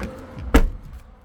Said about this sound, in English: Oh, I didn't close that door properly. Let's come back and do it again.